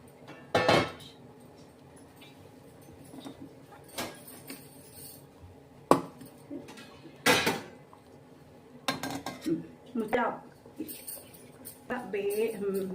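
Metal clatter of a lid being set onto a pan of cooking milky white mushrooms, with scattered clanks, scrapes and knocks, close and intermittent, as someone talks.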